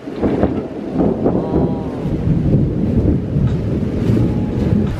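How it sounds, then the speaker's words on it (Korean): Heavy rain pours during a thunderstorm in Phuket, Thailand, a loud, steady, dense wash of noise with low rumbles of thunder rolling beneath it for the whole stretch. "빗소리 들리죠?"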